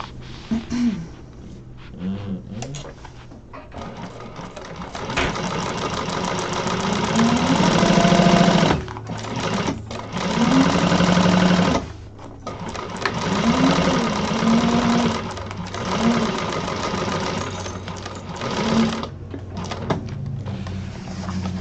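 Sewing machine basting a large piece of fabric, running in steady bursts with brief pauses between runs, close and fairly loud, no talking.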